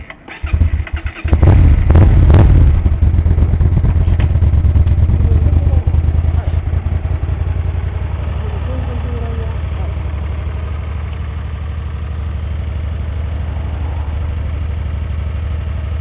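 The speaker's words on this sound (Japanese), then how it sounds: "エンジン音聞かせてもらうかな" A Hyosung GT250R motorcycle engine starts with a few sharp revs, then settles into a steady, loud rumbling idle that continues to the end.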